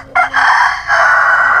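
A rooster crows loud and close on a farm with laying hens, one long drawn-out call with a brief break partway through and no talk over it.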